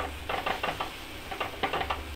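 Chopped tomatoes cooking down in an oily pan for a Bihari-style veg paneer parcel filling, with a soft steady sizzle under repeated light stirring scrapes, close and moderately quiet.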